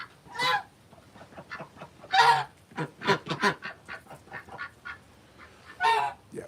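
Backyard chickens, geese, ducks and turkeys squawk and honk at feeding time, loud close bursts of calls overlapping in an irregular rhythm with short gaps between them.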